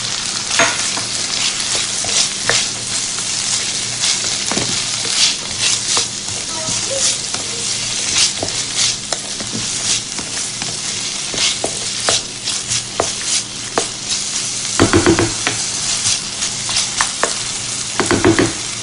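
Frozen green peas, green beans and carrot sizzle steadily in a pot with rice, with repeated stirring scrapes and clinks of a utensil throughout, loud and close.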